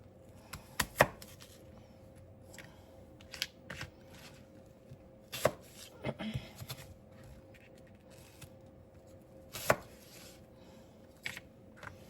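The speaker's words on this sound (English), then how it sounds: "We're going to chop 2 apples." A knife chops through two apples on a cutting board in scattered sharp knocks, some grouped in quick bursts, others spaced out, close and quiet with no voices.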